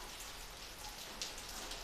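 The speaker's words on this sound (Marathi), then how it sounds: "भरपूर पाऊस पडतो आहे." Heavy monsoon rain falling steadily, a dense even hiss of drops with a few sharper splashes, continuous and moderately loud with no voices.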